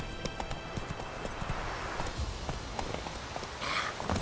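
Hoofbeats of Roach, the horse in The Witcher 3 video game, clip-clopping at a steady walking pace, close and fairly loud over a low ambient background.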